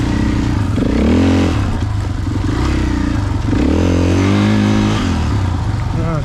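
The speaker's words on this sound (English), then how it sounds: "Mick just nailed that log beautifully. Jumps it" On a trail ride, a dirt motorcycle engine revs hard and loud up close, rising and falling in pitch as the bike jumps a log, with rattling clatter underneath throughout.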